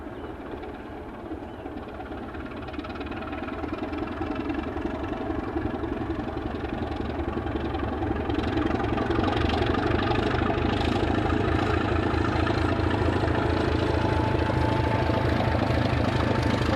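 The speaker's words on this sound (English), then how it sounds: "The summit of the line at Hayak plays host to unsilenced 749102, seen passing with a short westbound freight." Unsilenced Czech class 749 diesel locomotive hauling a short westbound freight train past the line's summit, a loud throbbing engine roar building steadily over rumbling wagons and clattering wheels, close by, with no talking.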